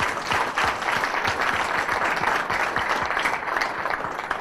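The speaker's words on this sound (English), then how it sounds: "I think that's worth a warm round of applause." Warm audience applause at a chamber of commerce business forum: steady, dense clapping from a sizable crowd, with a few sharper individual claps standing out, continuing evenly without speech.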